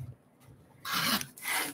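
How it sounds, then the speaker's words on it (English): A blade trims a thin sliver off the edge of a fabric quilt block, making a close, soft, raspy cutting swish that comes in two short strokes after a quiet moment, with no talking. "I'm going to sliver trim this on this side."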